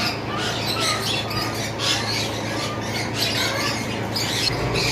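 Cockatiels at a bird market squawk continuously in a dense, loud chorus of overlapping harsh calls, with a steady low hum beneath and no voices.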